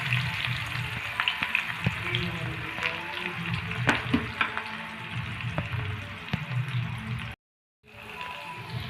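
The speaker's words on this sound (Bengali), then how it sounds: "এখন কেটে রাখা পেঁয়াজ কুচিটা আমরা দিয়ে দিচ্ছি।" Chopped onions go into hot fish oil with fried fish heads and spices, giving a close, continuous sizzle dotted with sharp pops and crackles.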